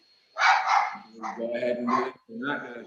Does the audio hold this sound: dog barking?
yes